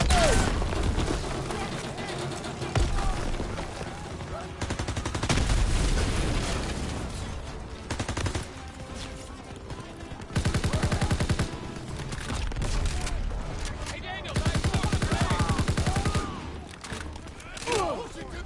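Heavy machine gun fire rattles in sustained bursts amid explosions and scattered gunshots in a World War 2 combat video game, loud and chaotic, with shouting voices mixed into the battle.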